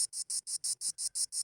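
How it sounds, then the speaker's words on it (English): A giant mosquito trapped inside a car makes a high, thin whine in eight short, evenly spaced pulses, close and clear with no voices. "I let a giant mosquito in the car when I rolled down the window."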